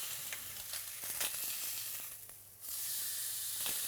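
Rib eye (entrecôte) steak sizzles loudly in a hot pan, a close, bright frying hiss with crackling pops that dips briefly before surging back, and no voices.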